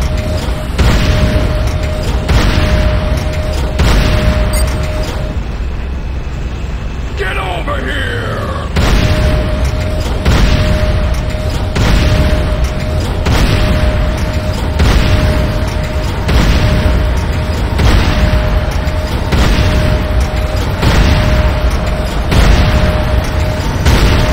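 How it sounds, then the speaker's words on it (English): The GDI weapons factory in C&C Renegade comes under attack, with loud, repeated explosions and booming impacts landing in a steady rhythm alongside continuous mechanical game noise and a droning tone. "GDI weapons factory under attack."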